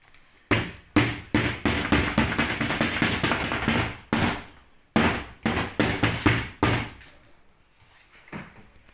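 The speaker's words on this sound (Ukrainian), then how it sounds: "легеньке простукування молоточком" Light, rapid taps from a small hammer on a YuMZ tractor door during repair, in two quick bursts with a short pause between, close and crisp, followed by a few scattered taps.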